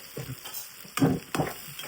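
Chillies sizzle in hot oil, with two sharp, louder crackling bursts rising over a steady frying hiss.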